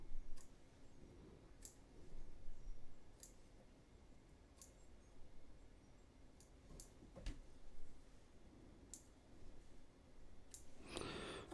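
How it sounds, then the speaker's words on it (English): Fine point scissors snip foam fly-tying material close up, a series of sharp, sparse clicks spaced irregularly over a soft background hiss. "Let's use our fine point scissors because I want to really clean this up"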